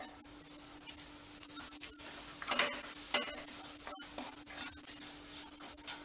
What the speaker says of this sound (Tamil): ரவையை வாசம் வர்ற வரைக்கும் ஒரு அஞ்சு நிமிஷம் மீடியம் ஃப்ளேமில் வச்சு ரோஸ்ட் பண்ணிக்குவோம்